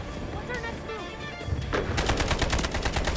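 Rapid gunfire from a PTR-32 assault rifle in the shooter game Delta Force, a loud run of sharp shots filling the second half, with game sounds and some talk earlier.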